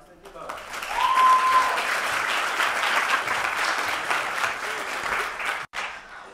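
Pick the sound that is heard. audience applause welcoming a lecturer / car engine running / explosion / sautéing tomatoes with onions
audience applause welcoming a lecturer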